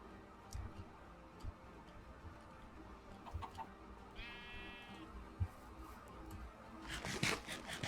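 Chickens in the video game Haven cluck and squawk faintly amid ticking game sounds, with a brief tonal call midway and a louder burst near the end.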